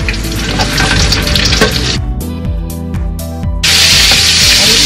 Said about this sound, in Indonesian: Nah sekarang saya mau goreng tomatnya sebentar.